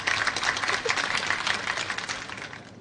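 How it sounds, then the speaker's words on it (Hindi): Students in a classroom clapping together, a fairly dense burst of applause that stays steady and then tapers off near the end, with no voices over it. "चलो बच्चों, सब लोग इसके लिए तालियां बजाओ।"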